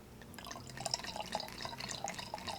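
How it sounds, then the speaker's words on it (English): Hibiscus mead trickles through a funnel into a glass bottle, a close, steady pour with soft gurgles and drips, alone with no talk. "So here's our bottle of hibiscus mead from earlier that I'm just going to pour a little bit in."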